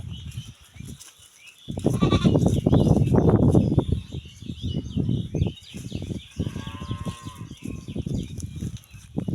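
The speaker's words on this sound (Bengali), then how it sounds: "খরায় ছাগল খালি মগের কাছে ছুটে ছুটে আসতেছে" Goats on a drought-stricken goat farm bleat repeatedly, close by and fairly loud, as they crowd toward an empty water mug under harsh sun, with faint bird calls in the background.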